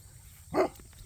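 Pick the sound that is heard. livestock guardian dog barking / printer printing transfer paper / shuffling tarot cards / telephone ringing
livestock guardian dog barking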